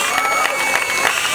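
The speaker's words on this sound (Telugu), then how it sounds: "చప్పట్లు." Crowd applause at a laddu auction in a main bazaar, dense loud clapping mixed with cheering voices, brief and close.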